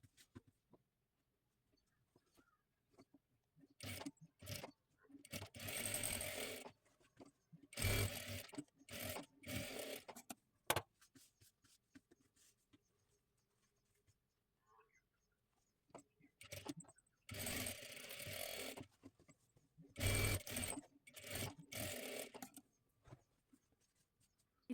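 Short bursts of a sewing machine stitching tucks on a blouse, several fast rattling runs separated by quiet pauses, close and fairly soft with light handling noises between.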